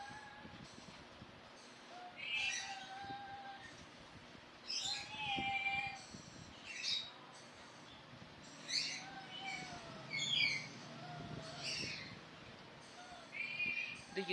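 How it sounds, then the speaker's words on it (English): A pet chattering lory sings indoors, giving a series of faint chirps, whistles and squawky notes in irregular bursts over a low background hum, without any talking. "My chattering Lori, he is singing."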